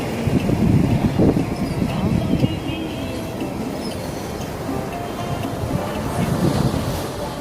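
Ocean waves on a cold, windy seashore wash in with a broad, rushing hiss, swelling louder near the start and again toward the end, while wind buffets the microphone and no one speaks.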